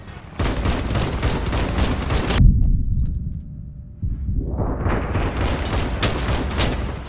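Rapid, heavy booming shots fire in a loud barrage in the video game Crossout, cut by a short muffled lull before the sustained volley of cannon fire resumes.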